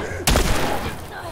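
A single sharp gunshot bursts out in The Last of Us, loud and close, followed by a short rumbling tail under faint background noise.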